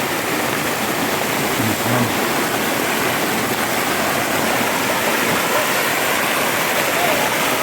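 Heavy rain floodwater rushes in a steady, loud broadband roar, like a torrent or waterfall, continuous and close throughout with no speech.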